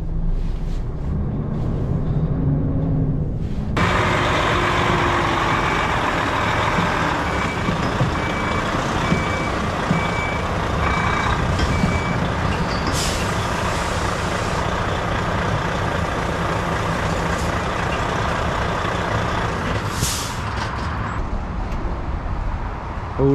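HGV truck reversing into a parking spot, a steady rumble of the diesel engine under a regular series of reversing beeps, followed by an air-brake hiss near the end.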